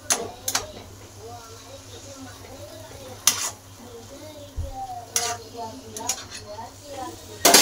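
Methi (fenugreek) bhaji is stir-fried in a pan with a soft sizzle. A few sharp clanks and scrapes of a utensil against the pan come through, with a voice talking at times.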